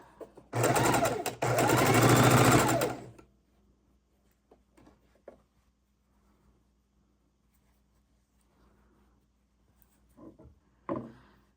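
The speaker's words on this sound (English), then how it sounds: "we are going to sew it together" A sewing machine stitching scrap fabric pieces together for a log cabin quilt block, one loud close run of about two and a half seconds with a short break, then quiet handling clicks and small taps.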